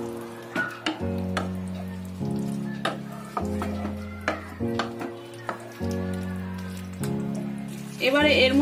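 Fried mushrooms sizzling in a kadhai while being mixed, a soft steady crackle under a sustained background hum, with scraping stirs and a brighter burst of frying noise near the end.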